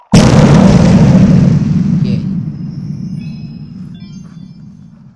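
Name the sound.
explosion in video game Kirby and the Forgotten Land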